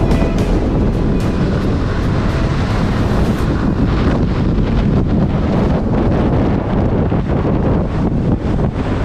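Strong wind roars without a break across a campsite in Patagonia, Argentina, during a storm, loud and close with heavy buffeting against the microphone.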